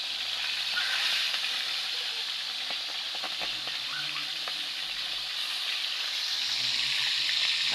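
Galunggong, a scad fish, fries in a pan with a steady, soft sizzle and faint crackle and spatter, low and continuous without pause.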